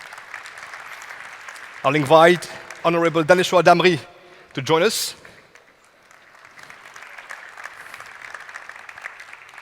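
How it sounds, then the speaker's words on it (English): Audience applause for panelists at a conference on AI, innovation and digital growth, steady clapping filling the room before and after a speaker introduces a guest over a microphone. "sous vos applaudissements."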